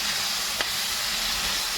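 Cauliflower frying in oil seasoned with turmeric and salt gives a steady, even hiss of sizzling throughout, with a single brief crackle partway through and no voices.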